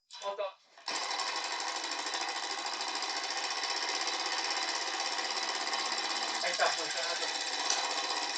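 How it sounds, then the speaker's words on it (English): A heat-driven Stirling engine running almost at full capacity gives a steady, fast mechanical chatter, close and continuous after a short opening burst, with brief voices near the start and again later. "And of course we can use the movement directly from the engine."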